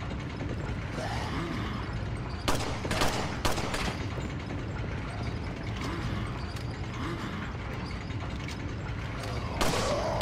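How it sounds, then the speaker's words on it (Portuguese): Gunfire in the video game Resident Evil 4, a few sharp loud bursts standing out over a constant dense game soundscape of rumble and mechanical noise, with no talk. "Quem tá atirando em mim?"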